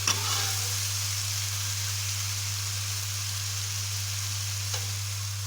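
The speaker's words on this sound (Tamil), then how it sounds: "சோம்பு, மிளகு, சீரகம், பூண்டு இதெல்லாம் வந்துட்டு சேர்த்து நல்லா வதக்கி விட்டுக்கலாம்" Ground fennel, pepper, cumin and garlic paste sautéing in a pan for Chettinad chicken kulambu, giving a steady, even sizzle with a constant low hum underneath and no talk.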